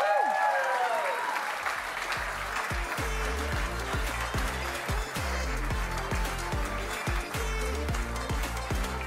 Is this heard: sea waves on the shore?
no